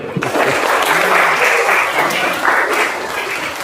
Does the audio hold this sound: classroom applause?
yes